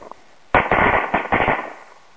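A rapid string of twelve firecrackers pops loudly after a brief quiet start, bursts crackling in quick clusters for about a second before tapering off, with some failing to go off.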